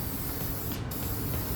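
Primer is sprayed from a can onto a BMW F10 brake caliper: a continuous, fairly quiet aerosol hiss that barely breaks for the whole short burst.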